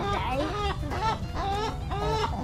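Backyard chickens cluck close by, a quick series of four rhythmic, nasal clucking calls repeating at an even pace.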